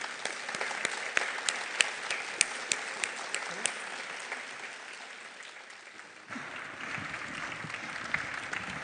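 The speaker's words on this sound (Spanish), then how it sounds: "Por favor, ayúdenme a darle un muy fuerte aplauso." Strong, sustained round of applause from a conference audience welcoming doctors to a talk on breast cancer treatment. Dense clapping holds steady for about six seconds, then continues at a slightly lower level with a few sharper claps standing out.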